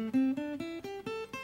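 A short run of single plucked guitar notes from a pentatonic scale, about six evenly spaced notes stepping upward, clean and fairly quiet.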